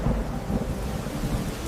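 Thunder rumbles low and heavy beneath steady rain pouring down in a village storm, a continuous dense roar with no voices, loud and close throughout.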